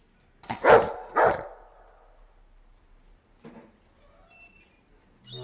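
Two loud dog barks close together from a film scene, followed by quieter rustling and faint high tones, with no talking over them.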